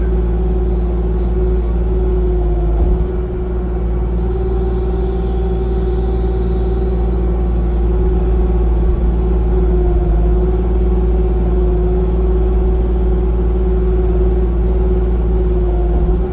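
A Kubota KX-040 excavator engine drones loud and close while trenching, a constant low hum with a steady tonal note that never drops, and no one speaks over it.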